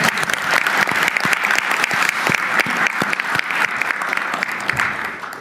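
Applause at a national tourism strategy meeting in Korea: a roomful of people clapping steadily and loudly throughout, dense and sustained without a break.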